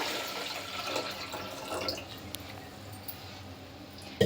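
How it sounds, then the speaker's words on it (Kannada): A jug of water is poured into a cooking pot set on a lit gas stove. A soft watery splashing and trickling carries on steadily, then thins out toward the end. "ಒಂದು ಚೊಂಬು ನಾನಿಲ್ಲಿ ನೀರನ್ನ ಹಾಕ್ಕೊಳ್ತಾ ಇದ್ದೀನಿ"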